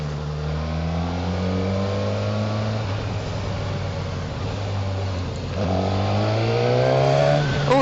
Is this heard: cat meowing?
no